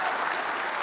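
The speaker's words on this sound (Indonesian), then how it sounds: "Kita kasih tepuk tangan." A brief burst of steady audience applause at a televised talk show debate, dense and even, with no voices standing out.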